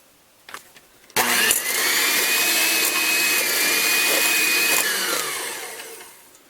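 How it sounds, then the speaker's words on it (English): Electric hand mixer whirring through mashed bananas for peanut butter banana muffin batter, starting abruptly and running steadily at close range with a high whine before winding down. "I think it's easier to use a mixer to do this with, like a hand mixer."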